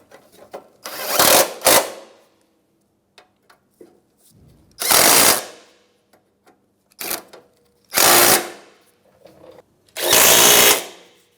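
A power tool runs in four or five short bursts, whirring as it tightens radiator bolts on an Acura MDX, with quiet gaps and light clinks between the loud spurts.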